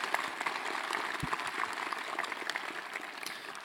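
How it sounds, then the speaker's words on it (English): A conference audience at a security event claps in a fairly quiet, thin round of applause with scattered individual claps, heard from some distance and steady throughout. "I just want to give a round of applause to all the staff and volunteers that make this possible."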